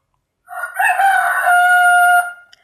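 A rooster crows once in a long, loud, drawn-out call that rises and holds before trailing off, close by and clear with no talk around it.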